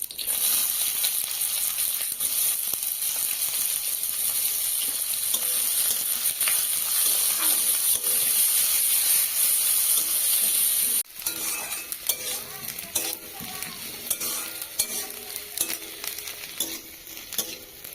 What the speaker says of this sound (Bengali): পেঁয়াজটা দেখুন আমি হালকা একটু লাল লাল করে ভেজে নিয়েছি